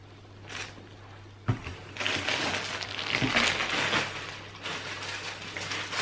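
Plastic bags holding new white shirts crinkle and rustle up close, with a sharp crackle followed by several seconds of busy handling noise that rises and falls.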